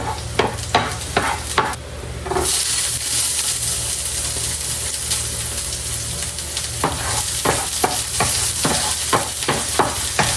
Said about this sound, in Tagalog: Kapag po ako ay nagigisa ay inuuna ko po talaga ang bawang.